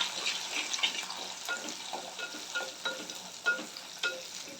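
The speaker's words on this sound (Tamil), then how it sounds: "சின்ன வெங்காயமும் சேர்த்துட்டு அதுக்கப்புறமா ரெண்டுத்தையும் நல்லா வதக்கி விடுங்க" Garlic and shallots sauté in a pan for a dried anchovy thokku, giving a steady close sizzle broken by regular scraping stirs, with no talking.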